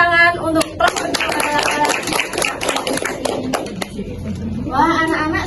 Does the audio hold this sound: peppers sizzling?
no